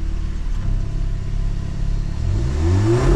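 An Audi S3 engine revs at a dig race start, a loud continuous close-up rumble that climbs sharply in pitch toward the end as the throttle opens.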